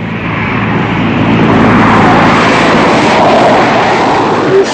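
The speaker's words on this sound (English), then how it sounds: "It's a plane. We think it's just some sort of passenger jet. It's very low." A low-flying passenger jet roars overhead in a steady, loud, broadband drone that fills the whole stretch without letting up.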